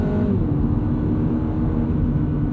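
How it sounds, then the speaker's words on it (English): A 2022 Subaru BRZ engine in second gear, held at high revs against the rev limiter, a loud steady buzzing drone heard close up from inside the car with no talking. "In manual mode, you can bounce off the rev limiter."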